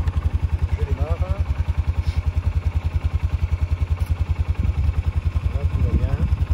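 A 2020 Polaris 570 quad idles steadily right after starting, its engine thumping in a fast, even, close-up rhythm with a few faint background noises on top.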